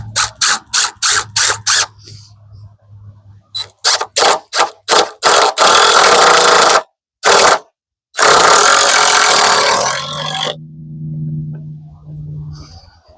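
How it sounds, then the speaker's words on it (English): A power drill drives screws into a wooden king stud while framing a tiny house front wall, with a burst of short rapid trigger pulses followed by longer loud whirring runs, then a steady low hum as the screw seats. "Let me get these screws in on this king stud right here."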